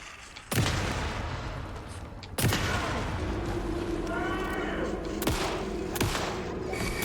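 Gunfire in the video game Alan Wake II: several sharp, booming shots cut through a dense, continuous rumble of combat noise, loud and close.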